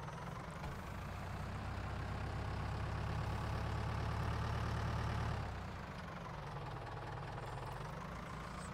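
An old tractor engine idles in Farming Simulator 19, a steady, close, knocking diesel rumble that swells slightly for a few seconds before settling back to a lower, even idle.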